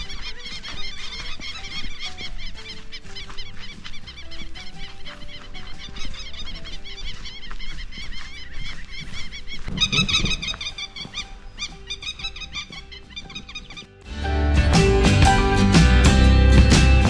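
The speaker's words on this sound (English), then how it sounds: "capturing the sounds of the birds." Birds call at dawn in the South African countryside, with repeated chirps and whistled phrases layered over one another, first moderately and then more loudly as a dense chorus takes over near the end.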